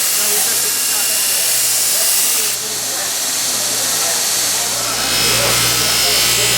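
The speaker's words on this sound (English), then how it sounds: "Now we're on a fabric wheel thread compound." A fabric buffing wheel loaded with 120 grit buffing compound spins on a knife-grinding machine, giving a loud, continuous whirring hiss with a steady low hum that dips briefly midway.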